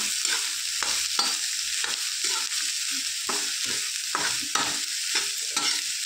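Carrot and capsicum stir-fried over a full flame for momo filling, with a loud continuous sizzle and hiss broken by repeated spatula scrapes and tosses every half second or so, close up, no talking.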